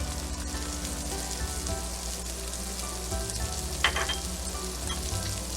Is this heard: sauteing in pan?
yes